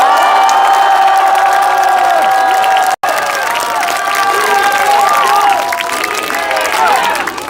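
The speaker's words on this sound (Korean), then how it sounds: "이재명 대표에게도 큰 우렁찬 함성과 박수를" A large outdoor crowd at a Democratic Party election campaign rally in Mapo roars with cheers, shouts and whoops for party leader Lee Jae-myung, with a brief cut midway and the loud cheering continuing steadily afterward.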